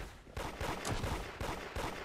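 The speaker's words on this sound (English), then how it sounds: "where am I shooting at, Casper?" Rapid gunfire in the mobile game Da Hood: dense bursts of loud shots in quick succession over about two seconds.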